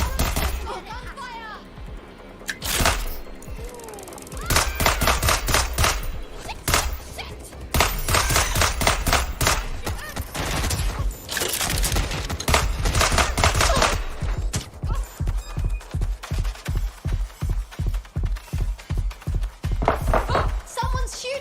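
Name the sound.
gunfire in video game Watch Dogs Legion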